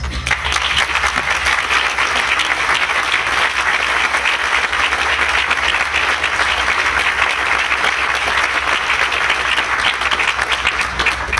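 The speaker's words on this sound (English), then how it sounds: "please stand and give them a round of applause" Sustained applause from a large crowd at a groundbreaking ceremony, a steady dense wash of clapping that holds at full strength throughout.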